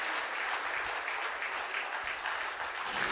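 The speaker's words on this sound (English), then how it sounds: "A huge clap for Professor Rahman." Sustained audience applause in a conference hall, honouring cardiac surgeon Professor Muhammad Rahman, a dense, steady wash of many hands clapping throughout with no pause.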